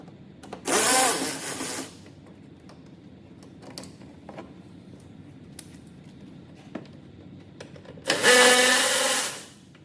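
A tool undoing a 7mm headlamp bolt on a Vauxhall Insignia gives two loud close bursts of about a second each, a broad high whirr, with faint clicks and taps between them and no talking.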